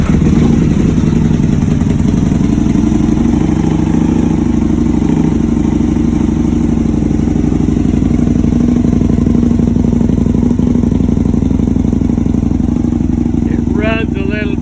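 Freshly cranked engine on a cold start, idling rough and uneven as it warms up, a steady loud low rumble with clattery texture throughout and a brief rev near the end.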